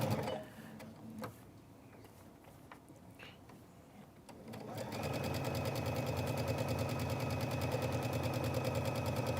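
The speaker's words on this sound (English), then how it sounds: "sewing some nice straight lines" A sewing machine stitches straight lines on a fall leaf quilt, starting with sparse clicks and handling sounds, then settling into a loud, fast, steady mechanical chatter for the final half, with a voice briefly heard early on.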